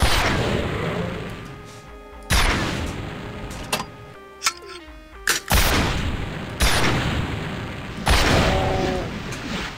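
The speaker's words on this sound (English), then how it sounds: "He blew up the barrels." Explosive barrels in Doom blow up in a chain of sharp, loud blasts, several booms spaced a second or two apart, mixed with weapon fire and game effects.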